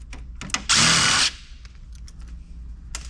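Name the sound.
power drill taking out screws from an Alienware PC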